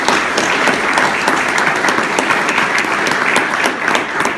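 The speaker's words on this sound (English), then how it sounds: "now she deserves another round of applause" A roomful of people applauding at a Dutchess County budget presentation, steady and loud, a thick continuous patter of clapping with no talking.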